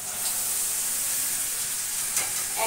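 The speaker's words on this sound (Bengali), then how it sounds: "একবারে কষিয়ে নেব" Jackfruit and potatoes fry with masala in a wok, a steady close hissing sizzle throughout with a couple of faint scraping touches from a spatula, no talking.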